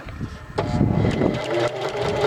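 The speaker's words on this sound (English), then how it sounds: "let's go ahead and get started on sewing" A sewing machine runs in a fast, steady mechanical patter while stitching a pocket cloth diaper, close by, with a brief pause and restart partway through.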